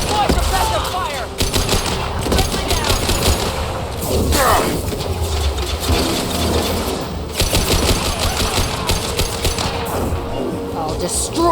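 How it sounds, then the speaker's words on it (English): Sustained suppressive gunfire in the Mass Effect 2 video game rattles in dense, rapid bursts across the whole stretch, loud and continuous with shouted combat voices mixed in. "Deploy suppressive fire!"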